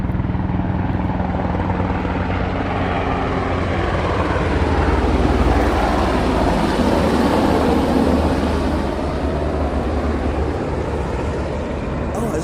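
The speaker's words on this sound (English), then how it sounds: "I was trying to catch that helicopter" A helicopter thunders overhead at the Georgetown Waterfront in Washington DC, a loud continuous rotor roar that swells and lingers, then slowly eases as it passes.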